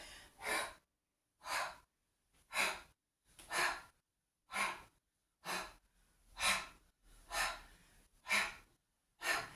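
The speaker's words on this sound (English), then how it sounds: "Breathe in, breathe out as you come back again." Slow, even breathing during a twisting stretch: about ten distinct breaths in and out, each a soft, airy rush close to the ear, separated by short silences in a steady rhythm.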